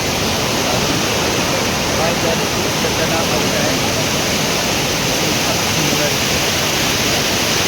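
A forest river rushes in a steady, dense broadband roar, loud and close, continuous without a break for the whole stretch.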